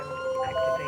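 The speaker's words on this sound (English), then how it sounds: "Can you put your lights and sirens on just quickly to see if the patient can hear them?" Ambulance siren switched on by a paramedic crew on a call, a steady wailing tone with sustained horizontal pitches across the short burst, loud and close, with engine rumble underneath.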